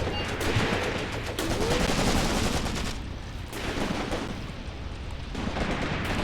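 Gunfire during an infantry assault in the war game Graviteam Tactics Mius-Front, dense overlapping bursts and rapid cracks of rifles and machine guns rolling on without pause, loud and close with distant echoes.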